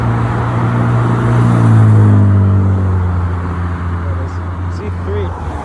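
A BMW Z3 engine revs up and holds a droning, rising tone that slowly fades, moderately loud and nearby, with speech-like sound mixed in.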